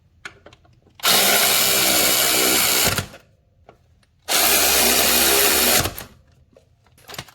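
A power tool whirs on a Can-Am Gen2 brake caliper as the bolts are tightened, two loud, close bursts of about two seconds each with a short quiet pause between them.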